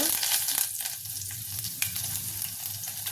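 Mustard seeds, cumin, dried red chillies and curry leaves fry in hot oil for a dal rasam tempering, a continuous close crackling sizzle with occasional stirring scrapes and small pops.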